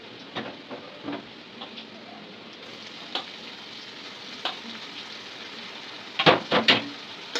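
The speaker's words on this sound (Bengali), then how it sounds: "আদা রসুনটা ভালো করে ভেজে নেব" Ginger and garlic fry in a pan for a Bangladeshi-style fish curry. A steady close sizzle runs throughout, broken by scattered spoon taps and a quick cluster of stirring scrapes toward the end.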